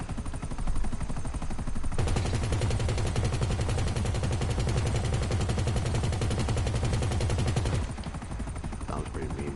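Loud, continuous rapid gunfire from GTA 5, a steady automatic burst lasting several seconds before cutting off.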